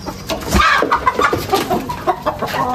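Hens clucking in a backyard coop on vaccination day, several birds giving repeated, irregular clucks and short calls close by, with no talking.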